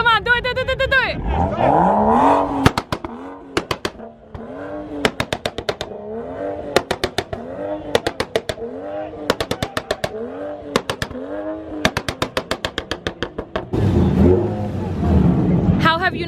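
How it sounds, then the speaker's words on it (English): A tuned car at a street car show fires rapid bursts of two-step launch-control pops and crackles, rhythmic machine-gun-like bangs between revs, with loud engine revving at start and end and people talking and shouting nearby. "Two-step, Shady. Two-step, two-step"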